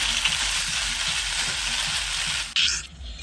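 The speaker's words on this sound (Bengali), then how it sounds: "আর এখানে আমি চাটনির জন্য ফোড়ন দিলাম শুকনো লঙ্কা আর 5 ফোড়ন।" Dried red chillies and five-spice seeds hit hot oil while tempering for a chutney, giving a loud, steady frying sizzle that hisses close up for about two and a half seconds before a brief flare and fade.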